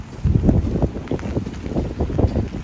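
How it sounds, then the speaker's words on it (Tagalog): Gusty wind buffeting outdoors in rain in Canada, rumbling in uneven bursts with no one speaking. "at mahangin"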